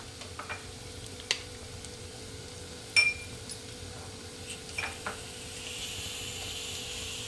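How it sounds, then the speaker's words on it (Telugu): Ginger garlic paste dropped into a hot pan for a moong dal curry, with a few sharp clinks of a utensil on the pan and a soft sizzle that swells toward the end. "ఇప్పుడు ఇందులో అల్లం వెల్లుల్లి పేస్ట్ వేద్దాం"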